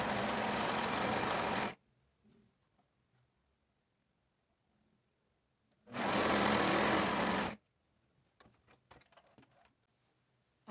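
Sewing machine stitching a skirt: two loud, fast whirring bursts of close stitching, each about two seconds long, separated by near silence with faint handling of fabric.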